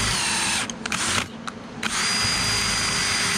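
A power drill bores into 304 stainless steel with a loud steady whine and grinding hiss that briefly dips and catches before resuming full speed.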